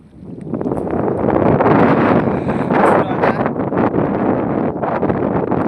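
Wind blows hard across open village farmland, a loud continuous roar with buffeting gusts over the microphone, fading in at the start.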